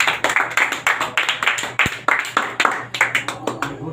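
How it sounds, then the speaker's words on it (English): Small classroom of students clapping for a classmate, a close, rhythmic burst of hand claps in a quick steady beat, each clap sharp and distinct, with no talk over it. "So clap for him"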